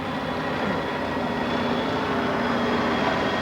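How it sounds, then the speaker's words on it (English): A helicopter ferrying water bags and materials to a remote English outpost approaches as a steady, heavy mechanical roar that fills the whole clip, with no talk over it. "See, there's a helicopter coming now."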